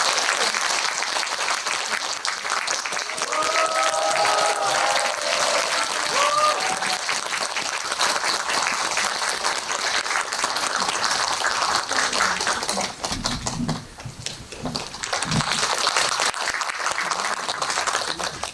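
A packed cinema audience applauds at a film screening event as the director and actors are welcomed, sustained dense clapping throughout, with a brief murmur of voices partway and the clapping thinning near the end.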